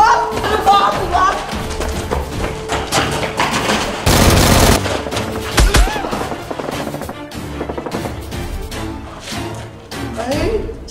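Toy Nerf guns snapping off rapid shots during a mock fight, a burst of sharp taps and clatter amid loud music and shouting voices, with one dense crackling volley in the middle.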